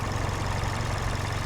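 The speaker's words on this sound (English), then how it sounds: "It's idling lower. Hopefully you can hear that." A car engine idles steadily at about 800 RPM in park after fuel injector replacement, giving a continuous, even low rumble with no breaks and no voices.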